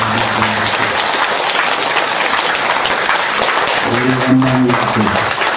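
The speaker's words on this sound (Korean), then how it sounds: "박수 좀 쳐주세요" Loud, dense clapping from a temple audience at a Buddhist dharma talk, sustained throughout, with a voice briefly heard at the start and again near the end.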